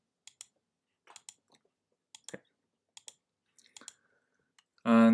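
Mouse clicks on a computer running MATLAB PDE Toolbox, sounding as a dozen sharp, quiet taps in small irregular clusters. A loud burst of noise cuts in at the very end.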